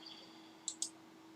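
Two quick, crisp computer mouse clicks while working in AutoCAD, close and fairly faint, set apart by a short gap over a quiet room hum.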